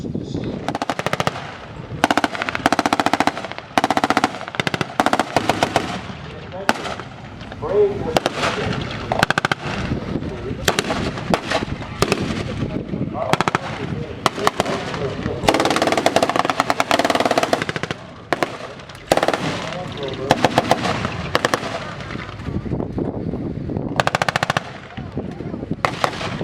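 Repeated bursts of loud gunfire and blasts at a tank weekend demonstration at the Canadian Tank Museum in Oshawa, sharp cracks and rattling volleys in irregular clusters over about half a minute, with voices occasionally between.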